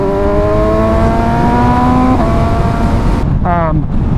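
A motorcycle accelerating to pass a car on a canyon road, engine whine climbing steadily in pitch, then a sharp gear shift and a fresh rising rev, loud and close over heavy wind roar.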